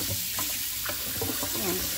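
Tap water running into a pot to cool down cooking, a steady close hiss and splash of the faucet that continues alone throughout.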